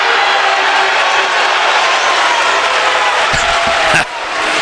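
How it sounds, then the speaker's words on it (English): Loud, steady roar of a rowdy crowd at a college hockey game in Minnesota's Madhouse arena, a continuous wash of shouting and cheering with a couple of sharp thuds near the end. "Gotta love the rowdy crowd here at the Madhouse in Minnesota."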